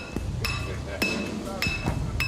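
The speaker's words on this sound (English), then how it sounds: "it's time to hammer it into position" Metal hammer blows driving a structural piece into position on a skyscraper under construction, five or six sharp ringing strikes at irregular intervals with clinking resonance over a low rumble of site noise.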